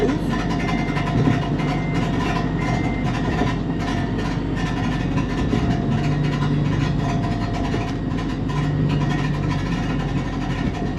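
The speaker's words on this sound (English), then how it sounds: "That's my exhaust." A supercharged Acura RSX Type S exhaust drones steadily and loudly throughout, a constant low rumble with a faint whine on top and no clear revs or pauses.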